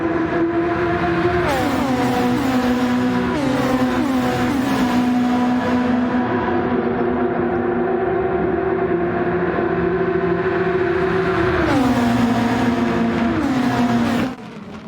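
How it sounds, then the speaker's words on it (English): Formula 1 race cars from a racing video game, McLarens among them, roar through a corner with a loud, continuous high engine whine, rising and dropping through gear shifts, and no voices. "The cars went for wide into turn 1 late in the race, Norris keeping the lead"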